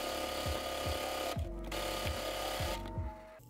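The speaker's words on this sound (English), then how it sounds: "sew up the side seams. And I made sure to sew around the pocket bag when I did this" A sewing machine stitches the side seams of a pair of shorts in short rhythmic bursts of rapid mechanical chatter, stopping and starting a few times. It is close and fairly quiet, with no talk.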